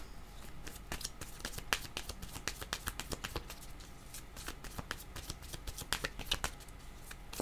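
Tarot cards shuffled for a card reading, a close, steady run of quick papery riffles and soft flicks that carries on throughout with no talking.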